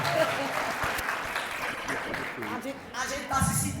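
A classroom or church audience applauds a teacher, giving dense, continuous clapping throughout, with voices speaking and cheering over it.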